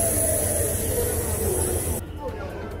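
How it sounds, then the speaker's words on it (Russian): Passenger train No. 341 Chisinau–Moscow starting to pull away from the platform at Chisinau station, a low steady rumble with high whine that cuts off partway, background voices around. "Он трогается поезд."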